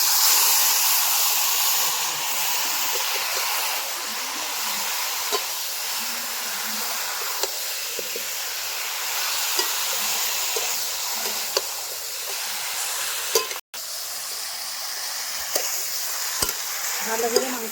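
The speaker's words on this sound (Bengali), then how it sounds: "আর আধা ঘন্টা বেশি হয়ে গেছে প্রায় মাখানো মাংস দিয়ে দেবো।" Marinated country goat meat sizzles and hisses steadily in a hot pan while frying, with occasional stirring clinks and scrapes, close and continuous.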